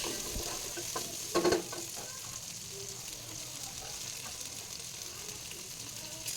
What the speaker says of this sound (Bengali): নুন দিয়ে আর হলুদ দিয়ে বেগুনটাকে লাল লাল করে ভেজে নেব